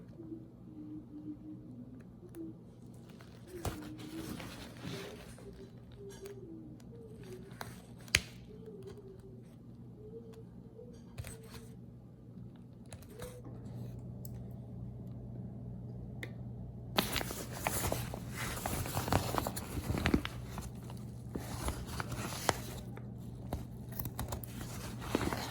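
Webbing stitches are cut and pulled from a LiteAF Curve backpack harness: quiet snips and tugs at first under birdsong chirping in the background, then a stretch of louder, rough ripping and tearing of thread near the end.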